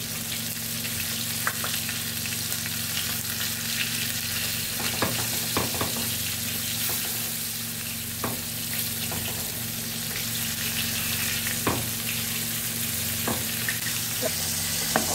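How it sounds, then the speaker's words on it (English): Pepper fish stew with hake bubbles and sizzles in a pot, a steady crackling simmer broken by occasional sharp pops and clicks, with no one speaking. "You can see the stew is boiling."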